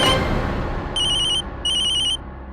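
A telephone rings in two clear, bright bursts with a short pause between them, over a low background hum and with no one talking.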